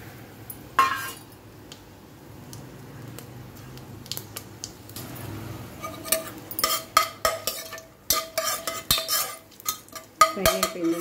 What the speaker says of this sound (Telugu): కానీ ఇప్పుడు హోల్ గరం మసాలా వేస్తున్నాను.